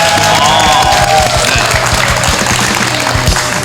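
Studio audience on a Korean TV talk show breaks into loud applause, a dense, steady burst of clapping with some faint cheering mixed in and a musical tone fading early.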